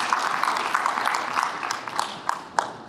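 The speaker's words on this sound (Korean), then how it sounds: "네, 박수 부탁드리겠습니다." Applause from an audience at a Korean climate policy citizens' group launch ceremony, as appointment certificates are handed out: a steady, moderate patter of many hands clapping, with a few sharper claps near the end.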